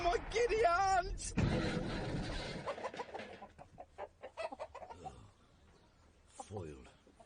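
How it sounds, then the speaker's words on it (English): A flock of chickens squawks and clucks in a rapid, loud flurry in a vintage BBC radio play, mixed with excited voices and other effects. "A flock of chickens!"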